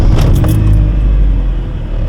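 A 2002 Honda Civic Si EP3 fitted with a Neuspeed exhaust idles and runs, giving a steady, loud, deep exhaust drone recorded close by, with a faint metallic jingle early on and no talking.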